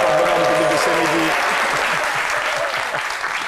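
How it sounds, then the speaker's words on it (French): A studio audience on a French midday talk show applauds loudly and continuously. The clapping is dense and close, and a voice is briefly audible at the start. "Les applaudissements pour le bonheur du public de ce midi"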